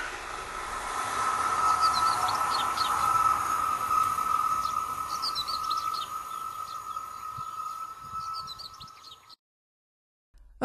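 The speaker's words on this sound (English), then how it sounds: "the high-frequency singing of the rails, which is particularly noticeable before and after the passage of the train" A steady high, whining ring from the rails over a continuous low rumble as a train rolls past, with faint chirping above, then a sudden cutoff near the end.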